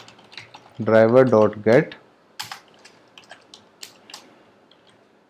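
Keystrokes on a computer keyboard as code for a Selenium WebDriver script is typed, a scattered run of light clicks after a short spoken phrase.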